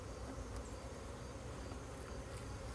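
Honey bees buzzing during a hive inspection as honey supers are pulled, a dense, steady drone that stays even throughout with no pauses and no talking.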